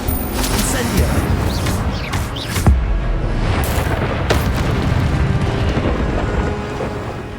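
Incendio fire spell cast in the Hogwarts Legacy video game, heard as a dense, steady roar of whooshing flame with a sharp boom near three seconds, continuous and loud throughout.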